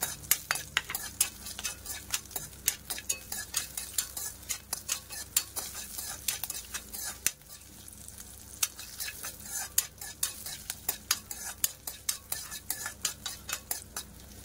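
Green chillies and sesame seeds frying in a little oil for a coconut chutney, with rapid, rhythmic spatula scrapes and clinks against the pan over a soft sizzle, close and without speech.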